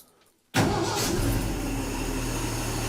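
A 1967 Bell truck engine cranks and fires up abruptly, then settles into a loud, steady idle close by.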